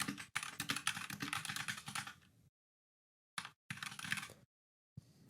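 Rapid keyboard typing in bursts, with clacking keystrokes separated by short silent pauses; close and fairly clear, no voices.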